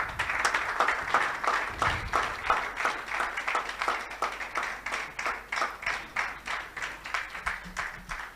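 Audience at a Nigeria at 61 colloquium applauding a speaker, a sustained round of rhythmic clapping with steady even beats that continues throughout at moderate volume.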